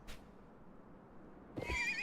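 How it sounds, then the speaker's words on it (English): A horse whinnies loudly in the Live A Live video game, a short burst of neighing that rises near the end after a brief earlier snort over quiet background. "You shot my horse out from under me again?"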